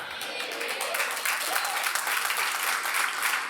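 Church congregation applauding at a sermon, a short burst of dense, steady clapping from a crowd, fairly loud and close.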